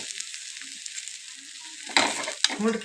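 Fish pieces frying in a pan of hot oil at home, a steady broadband sizzle with sharper bursts of spitting and crackle near the end, close and fairly loud.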